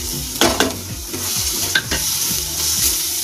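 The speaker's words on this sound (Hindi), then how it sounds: "अब हम इसमें ये मसाले डाल देंगे, हल्दी पाउडर, मिर्ची पाउडर, नमक स्वाद अनुसार और गर्म मसाला" Ground spices (turmeric, chili powder, salt and garam masala) stirred into fried onions in a hot pan for lauki kofta curry, a steady sizzle with a few scraping spoon strokes close by, no talking.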